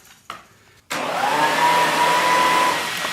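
A Kirby vacuum cleaner switches on after a couple of brief clunks and then runs loud and steady, a constant whooshing roar with a faint high whine holding through to the end.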